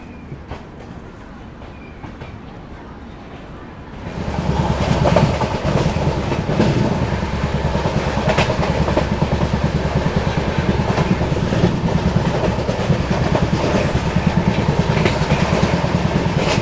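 Farakka Express, train 15744 from Delhi to Balurghat, pulling out of Akbarpur Junction, heard from on board: quiet for a few seconds, then a loud, steady rumble with rhythmic clickety-clack of wheels over rail joints.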